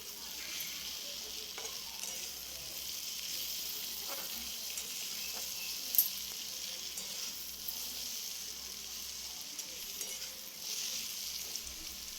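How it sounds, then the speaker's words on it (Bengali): Spice paste with salt and turmeric fries in a pan with a soft, steady sizzle, faint and continuous, with one sharp clink midway and no speech. "একটু ভাজা ভাজা হয়ে এসছে"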